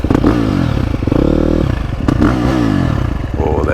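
A 2024 Husqvarna FC350 four-stroke motorcycle engine revs up close and loud in rising and falling bursts, with clattering mechanical noise, no talk.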